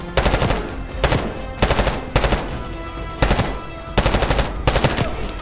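Automatic gunfire in Call of Duty: Black Ops 6 rattles out in loud, close bursts of rapid shots, about five volleys separated by brief pauses.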